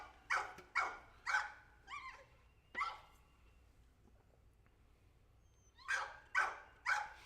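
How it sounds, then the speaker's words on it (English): A dog barks at RC car beeps in short sharp bursts, a quick run of three, then two more, a pause, and another run of three, fairly close with quiet between. "As soon as he hears those beeps, my dog goes nuts."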